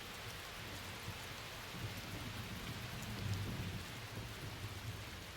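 Steady, soft rain hisses throughout a scene in the video game Crisis Core: Final Fantasy VII Reunion, with a low rumble of thunder swelling faintly beneath it midway.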